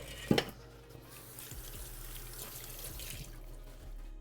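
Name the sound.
juice being poured over a salad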